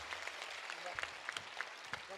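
An audience at a Hindi comic poetry recital in Kolkata applauds a child performer, a faint, distant wash of clapping with a few sharper claps, with voices murmuring underneath.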